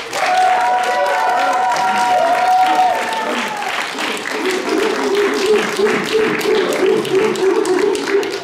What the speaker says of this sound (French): On applaudit bien fort le couple.